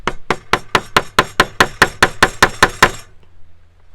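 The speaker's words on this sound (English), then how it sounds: "go ahead and hammer it down." A hammer strikes a fitting on a handmade leather arm rest for a metal detector, about twelve quick evenly spaced sharp taps close up, then stopping abruptly.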